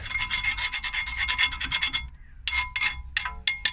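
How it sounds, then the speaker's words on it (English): A wire brush scrubs rust from car brake parts in quick, close rasping strokes, with a short pause and then a few more bursts. "with all this build up of surface rust, I'm just going to go around it like this"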